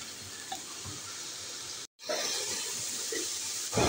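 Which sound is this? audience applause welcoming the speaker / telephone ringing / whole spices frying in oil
whole spices frying in oil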